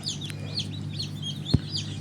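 Tiger breed chicken chicks peep in a steady scatter of high chirps beside an egg incubator, over a constant low machine hum, with one brief low knock partway through.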